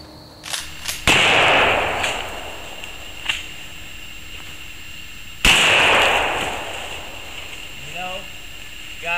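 Two booming shotgun blasts go off several seconds apart, each with a long rolling echo that fades slowly. A few fainter pops come before the first, and talk is audible.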